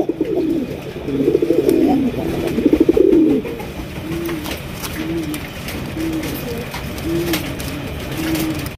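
Silver Sirazi pigeons, a large-sized breed, at a pigeon farm, giving loud close rolling coos in repeated phrases, strongest early on and then softer, recurring calls.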